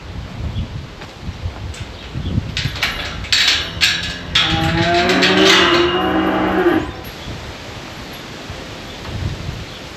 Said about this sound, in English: The cattle are bellering.